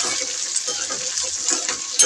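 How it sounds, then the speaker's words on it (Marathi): Onions and chilli frying in oil in a pan over medium heat, a steady close sizzle with faint stirring scrapes, ending in a brief sharper clink. "मिरची झाल्यानंतर कांदे टाकून द्यायचे आणि यालाही तेलात होऊ द्यायचं"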